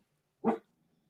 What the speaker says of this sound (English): he sees a bull outside. He says he's barking at it.